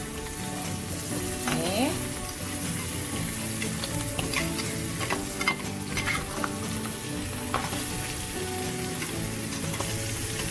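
Blue swimmer crab sizzles and fries in a pan, stirred with a spatula in a steady scraping rhythm. The loud frying runs throughout, with a brief spoken word over it.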